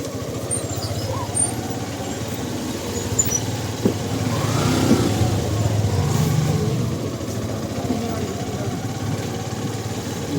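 A motorbike engine runs steadily while riding through Marfa village in Nepal's Mustang district, a continuous mid-loud drone with wind rush that swells slightly midway. A voice talks over it.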